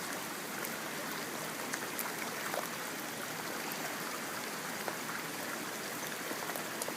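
Floodwater from a 500-year flood surges through a canyon, a steady broadband rushing and hissing roar that holds constant throughout, close and full, with faint splashes and drips scattered on top and no voices.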